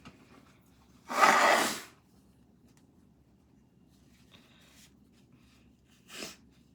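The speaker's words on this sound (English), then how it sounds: "I've got to be human and blow my nose." Someone blows their nose with one loud, close, sustained burst of about a second, followed by a quieter short sniff or blow a few seconds later in a mostly quiet room.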